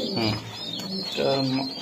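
Racing pigeons coo in soft, repeated throaty calls at close range, with a voice speaking in the background.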